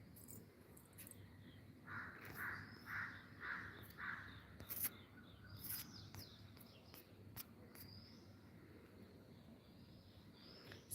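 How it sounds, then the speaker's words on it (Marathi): Several crows caw in a quick run of four or five calls outdoors on a fresh morning, fairly near, then scattered fainter calls over a steady background hum. "कावळ्यांचा चिवचिवाट."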